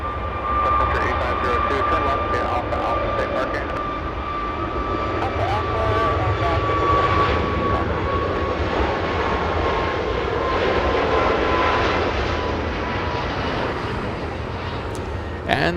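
Jet airliner departing Los Angeles International Airport, a sustained engine roar with a thin high whine running through it, steady and fairly loud, with a voice talking intermittently over it.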